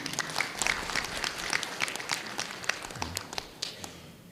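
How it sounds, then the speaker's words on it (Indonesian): Applause rises from the crowd at a graduation ceremony, a moderately dense wash of hand claps that holds steady before thinning slightly toward the end. "kasih tepuk tangan untuk semuanya"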